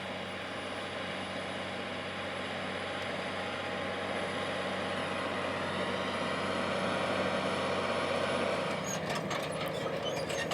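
A New Holland T9.450 four-wheel-drive tractor working a field, its heavy diesel engine giving a steady, loud, continuous drone that slowly builds, with a brief rattling burst near the end.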